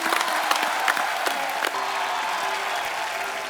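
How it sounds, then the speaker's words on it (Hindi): A studio audience at a comedy talk show bursts into loud applause for a film team, with dense clapping that settles into a sustained roar and a few cheers. No one speaks. "एक बार पूरी सारात टीम के लिए जोरदार तालियां हो जाएं।"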